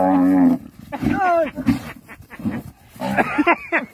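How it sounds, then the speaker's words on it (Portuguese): An ox gives a deep, drawn-out moo, then someone shouts urgently over short lowing sounds and a final rising bellow. "Olha o boi, moço, olha lá!"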